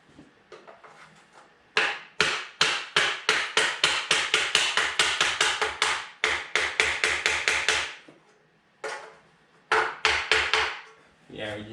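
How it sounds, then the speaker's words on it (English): A hammer bangs repeatedly during a wood stove installation, delivering loud, close, rapid strikes in long bursts with brief pauses between runs. "Don't bang on the hammer like this."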